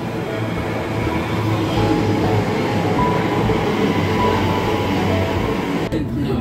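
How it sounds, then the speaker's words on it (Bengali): A London commuter train rumbles up at a station bound for central London. The heavy, loud, steady low roar of the carriages fills the platform before cutting out abruptly at the end. "আমাদের ট্রেন চলে এসেছে।"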